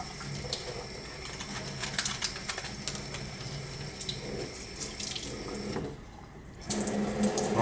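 Water runs steadily from a ground-floor household faucet that had low flow, a continuous hiss and splash into the sink with brief clicks, dipping quieter for a moment near the end before resuming at full strength.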